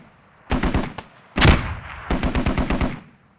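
A .50 cal machine gun mounted on a technical in a tactical shooter game fires in rapid bursts: a short string of shots, one heavy booming report, then another longer rhythmic burst, loud and close.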